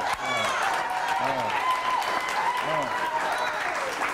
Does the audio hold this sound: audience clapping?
yes